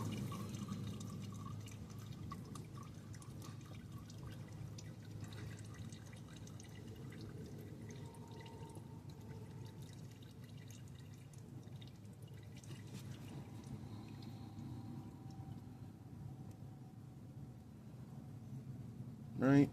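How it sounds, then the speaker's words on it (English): Engine oil drains from a 2013 Ford Fusion Hybrid, a quiet, continuous trickle and drip of liquid that runs steadily at low level, with a brief louder knock at the very end. "Let that oil drain out so that way it doesn't all come pouring onto your arm."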